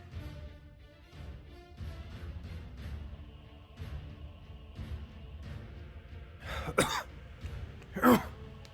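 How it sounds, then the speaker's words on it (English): A person coughs and clears their throat, with two sharp, louder coughs near the end over a background of game music, close to the microphone. "if you're wondering why I'm like coughing and such"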